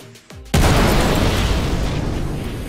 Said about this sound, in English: One Saiswan missile on the way